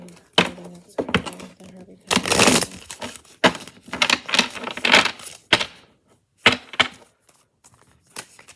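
Tarot cards being shuffled in short, sharp bursts of snapping and riffling, separated by brief pauses, close and fairly loud.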